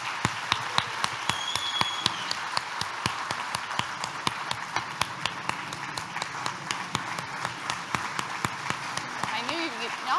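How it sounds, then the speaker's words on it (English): An audience applauds a student panel at an education summit, a dense, continuous patter of clapping from a room full of people that holds steady throughout. "Let's give a round of applause for our student panel."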